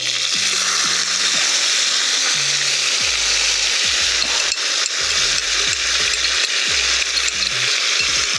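Pork ribs and vegetables in adjika sizzle loudly in a pan, a constant close frying hiss with occasional clinks and scrapes of stirring, no voices.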